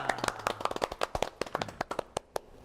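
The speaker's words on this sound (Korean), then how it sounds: "아주 그럼 이럴 때 박수를 한번 우리 들어보겠습니다." A studio audience at a Korean talk show claps briefly, a scattered run of close, sharp hand claps in an uneven rhythm that thins out toward the end.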